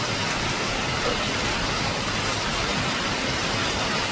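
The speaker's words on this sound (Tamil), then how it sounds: "இந்த மழை அப்படி பெய்யுது, பாறை அடிச்சு ஊற்றுது மழை." Heavy, sudden rain pours down onto rock during a thunderstorm, a dense and steady close-up roar of downpour that holds at full strength throughout with no voices.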